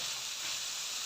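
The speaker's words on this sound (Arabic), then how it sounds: "ثم نضيف صدر الدجاج ونقلبه شوية كما راكم تشاهدوا هكا" Chicken breast sizzles in a hot pan as it is stirred, a steady close bright hiss with no talk over it.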